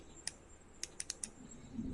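Five sharp little clicks on a computer, one alone and then a quick cluster of four, close and quiet against a faint room hum.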